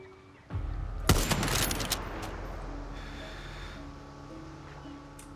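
Sniper rifle fire in the video game Far Cry 6: a sharp shot, then a louder crack about half a second later with a ringing tail, followed by a fainter report as the echo fades under a low background hum.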